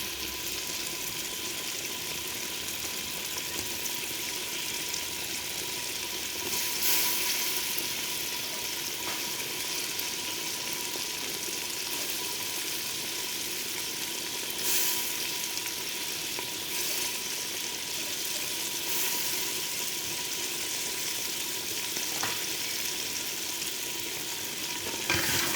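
Meat frying in a pan with kachnar buds added for kachnar gosht, a steady loud sizzle with some stirring that runs without a break, and no voices.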